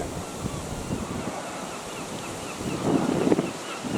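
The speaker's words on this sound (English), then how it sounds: "That is a harsh wind." Harsh, gusty wind blowing outdoors, a broad steady roar buffeting the microphone, swelling louder near the end.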